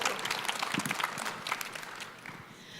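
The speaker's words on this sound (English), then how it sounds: "Yes, please, applause" A conference plenary audience applauds briefly, a moderately distant wash of many hands clapping that thins and fades out over a few seconds.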